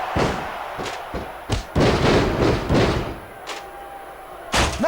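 Heavy ladder shots and body slams in a SmackDown vs Raw 2006 wrestling match: a string of loud, close thuds and crashes in uneven rhythm, with a last hard impact near the end.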